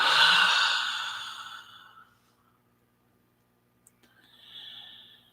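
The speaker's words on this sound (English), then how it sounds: "And then exhale, letting it all go." A slow, breathy exhale during breath meditation fades out over about two seconds, followed by near silence and a faint soft tone at the end.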